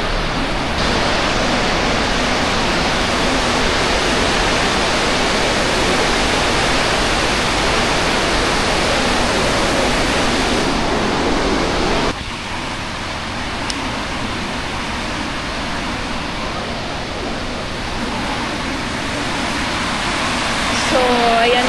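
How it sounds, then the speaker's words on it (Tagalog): Waterfall near Québec City roaring as a steady, loud broadband rush throughout, with a brief drop in intensity midway before the constant torrent continues. "There, it's the falls."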